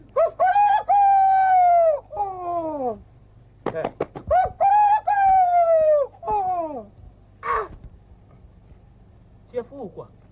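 A rooster crows in a village setting, drawn-out harmonic calls rising and falling, repeated twice with short clucks and other bird sounds between, fairly near and loud over a low steady hum.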